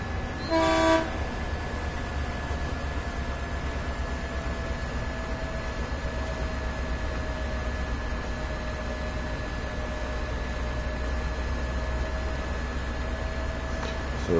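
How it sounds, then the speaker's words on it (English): A diesel locomotive horn in the Train Sim World game on a US railroad in California sounds in one short, loud blast near the start, then gives way to a steady rumble of the moving train. "Don't actually know what the regulations are on using the horn and things either on US railroads."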